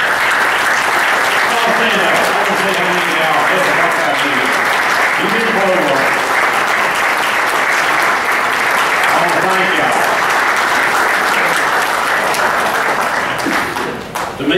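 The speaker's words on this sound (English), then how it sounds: "I want to give y'all a round of applause because I appreciate y'all." A crowd at a county party convention applauds loudly and continuously, steady clapping filling the space with voices mixed in, fading slightly at the very end.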